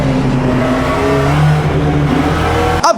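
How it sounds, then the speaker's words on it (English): Race car engines in a sim racing game as a car pulls alongside an Aston Martin on the Curva Grande, a loud, sustained engine drone with shifting pitch and a brief cut near the end. "He pulls alongside the Aston Martin down the Curva Grande."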